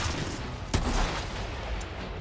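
Dense, steady roar of gunfire in Outriders, with one sharper shot standing out early on.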